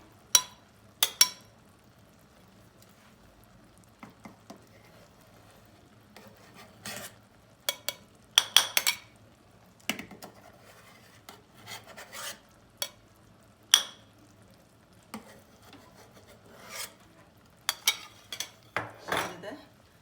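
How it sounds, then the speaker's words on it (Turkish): A metal skimmer scrapes and taps against a pot while skimming foam from boiling strawberry jam, in scattered bursts over a faint low bubbling hum in a quiet kitchen. "Şu kenarına biriken köpüklerini de şöyle bir kevgir yardımıyla yine alıyorum."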